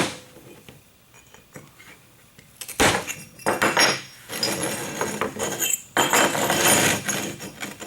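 A heavy quarry tile is scored and snapped with The Amazing Tile And Glass Cutter: light ticking clicks, then a loud crunching crack followed by bursts of gritty, crackling, clinking breakage.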